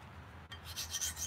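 A knife blade is sharpened in a quiet workshop, with faint, steady rasping strokes that grow a little brighter and louder partway through. No voices are heard.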